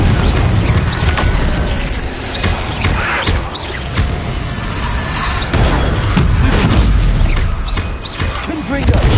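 Confringo blasting spell explosions in Hogwarts Legacy, several loud booming bursts and thuds spread across a busy, noisy spell fight, with a voice shouting over the blasts.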